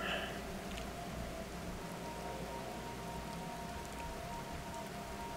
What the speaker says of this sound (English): The rain effect is very heavy.